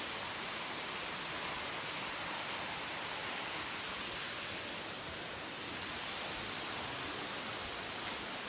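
A waterfall, Pha Lae / Tat Mok falls in Thailand, rushes in a steady, dense roar that stays unbroken throughout, with no voices.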